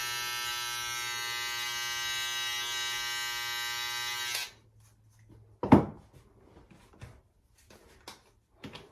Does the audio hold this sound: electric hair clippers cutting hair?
yes